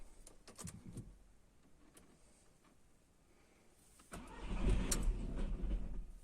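A few clicks and a short crank, then a Seat Alhambra 2.0 TDI diesel engine, hard to start after standing, catches and runs loudly and roughly at idle.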